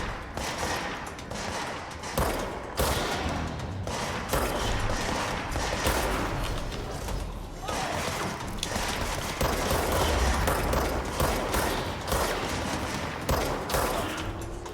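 Guns firing in the video game Control, dense rapid bursts of shots in a near-continuous fusillade, fairly loud, with clattering mechanical noises and no clear talking.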